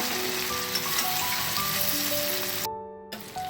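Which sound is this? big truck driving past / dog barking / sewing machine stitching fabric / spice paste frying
spice paste frying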